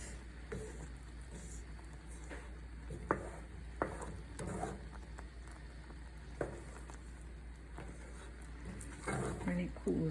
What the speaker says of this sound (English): Stir, scrape the sides.